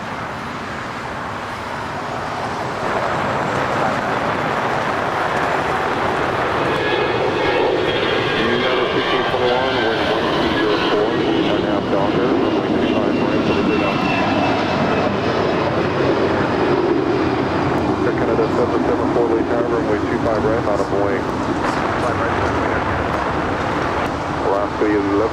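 Delta flight 420, an airliner on its takeoff roll at Los Angeles International, gives a loud, sustained jet engine roar that swells after a few seconds and holds steady, with radio chatter from air traffic control running over it.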